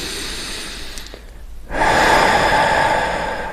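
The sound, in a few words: deep core breathing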